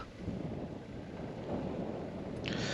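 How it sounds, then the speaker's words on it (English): Steady wind buffets the microphone with a low, rumbling roar that swells slightly toward the end, no voices. "It's a windy day, but not too bad."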